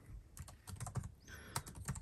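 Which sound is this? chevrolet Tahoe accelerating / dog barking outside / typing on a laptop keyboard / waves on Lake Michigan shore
typing on a laptop keyboard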